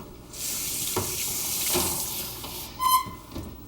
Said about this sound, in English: And I'll rinse my hands once more.